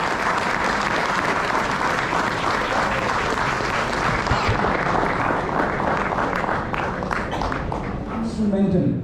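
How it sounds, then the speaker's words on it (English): A big round of audience applause at an NCC air squadron 75th anniversary celebration at Jai Hind College in Mumbai, dense, loud and unbroken from start to finish. "We have a big round of applause,"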